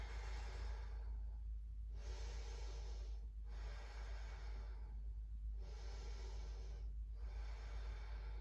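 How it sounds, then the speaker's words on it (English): Deep breathing during a yoga practice: several long, loud breaths in and out, close and airy, running one after another with brief pauses over a steady low hum. "Deep breath in. Deep breath out."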